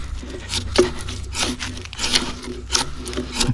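A draw knife strips bark from a pine log for a log cabin build, giving repeated rough scraping strokes roughly every half second, close and fairly loud, with woody rasping between them.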